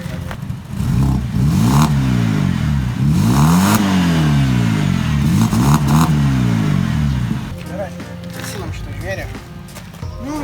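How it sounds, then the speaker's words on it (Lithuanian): A BMW car engine with a faulty lambda sensor runs and revs repeatedly, rising and falling in loud close sweeps, then settles to an uneven idle with some clatter. "Galit paklausyti, kaip dirba variklis, kai lambazondas sugedęs."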